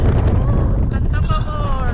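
Strong wind buffets the microphone outdoors in a steady, loud broadband roar that holds throughout, with faint tonal hums running underneath.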